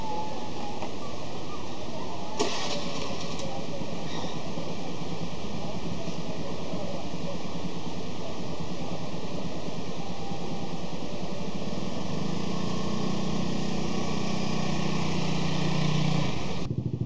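A 2014 Honda BeAT 110 scooter engine and exhaust idling steadily nearby, a continuous low putter that holds throughout with a brief blip early on and a slight rise in the low hum near the end.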